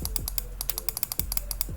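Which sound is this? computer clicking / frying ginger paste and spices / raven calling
computer clicking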